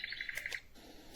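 A HOMGEN white noise machine plays its bird setting, a quick series of faint, high chirps in an even rhythm, followed by a short pause and quiet hiss.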